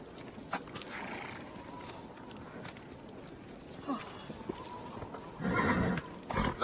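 A horse neighs and its hooves clip-clop nearby, with a louder burst of neighing and hoof noise near the end; no one speaks.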